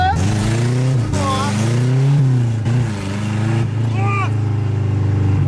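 A Chevrolet Chevette engine runs and revs in rising and falling surges, loud and close, with people talking over it.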